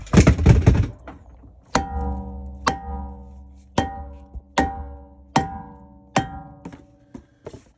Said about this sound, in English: Just gave it a couple of whacks all the way around, even on the center of the hub, and it came free.